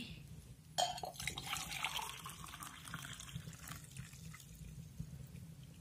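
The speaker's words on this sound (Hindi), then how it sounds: "तो अब पीते हैं जी हम पानी" Water splashes and pours into a vessel at close range, a brief burst followed by a steady trickling flow against faint background noise.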